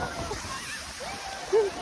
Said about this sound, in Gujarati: આ મોટું આવ્યું ભાઈ ખતરનાક મોજું આવ્યું